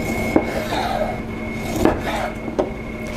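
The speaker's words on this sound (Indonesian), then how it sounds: "pertama kita potong tempenya ya" Knife cutting tempeh into cubes on a board, three sharp chopping taps spaced unevenly over a quiet hum with soft rubbing between strokes.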